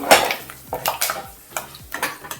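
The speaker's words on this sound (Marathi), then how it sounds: "हे अगदी आपण बारीक गॅसवरती छान परतून घेतोय" Cumin, curry leaves and cashews sautéed in a pan on a low flame, with repeated spatula scrapes and clinks against the metal over a soft crackle.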